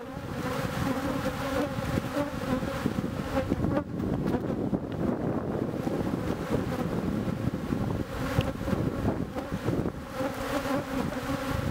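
Honeybees buzzing around an open beehive during an inspection, a dense continuous hum close to the microphone with light wind noise and no talk.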